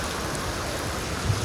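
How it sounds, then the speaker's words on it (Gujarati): Heavy rain pours steadily in Bhesan, a dense, even wash of falling water that stays loud and constant with no voices over it. "વરસાદ જોઈ લો ભેસાણમાં ફૂલ બાકાજી ચાલુ છે"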